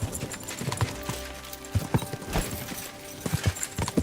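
Hooves of Pebbles, a ridden horse in Kingdom Come: Deliverance 2, clop in a steady uneven rhythm, close and moderately loud, with no talk.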